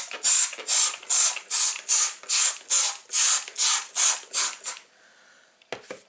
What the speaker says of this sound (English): So I'm going to spray it in here.